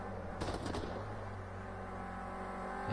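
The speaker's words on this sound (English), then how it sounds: "Hear the engine pop in there." A Renault Clio Cup race car at speed on track, its engine droning steadily with a quick burst of sharp pops and crackles near the start, then a continuous loud drone.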